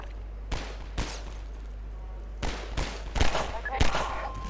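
Gunfire in the video game Half-Life 2, a series of sharp, loud shots spaced irregularly over a steady low hum of game background noise.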